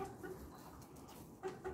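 Fourteen roosters cluck and murmur in a coop, a few short calls rising over a steady low barnyard rumble.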